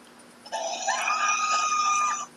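A single sustained high-pitched scream, harsh and steady, lasting nearly two seconds before it cuts off abruptly, set against a faint background hum.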